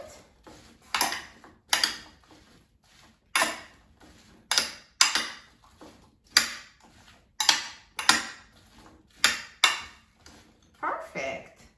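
Cucumber and apple salad is tossed with dressing in a bowl, giving about a dozen separate clattering scrapes and clinks of utensils at a steady rhythm, close and fairly crisp.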